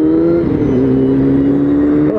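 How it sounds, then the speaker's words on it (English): A bus engine revs loudly and steadily nearby, a strained droning whine holding pitch with a slight dip and rise, heard alone without talk. "Bus sounds like it's gonna blow up."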